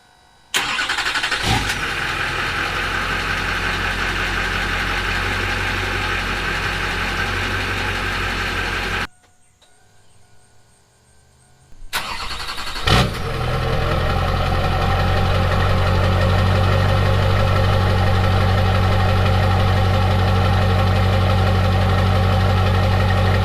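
LB7 Duramax diesel truck engine with a new exhaust, heard close: a start and rough, knocking diesel idle, a brief cut to near silence, then a second start settling into a loud, steady rumbling idle.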